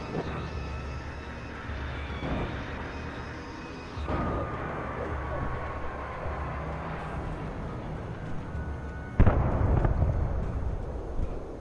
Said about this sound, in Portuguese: É, o helicóptero caiu.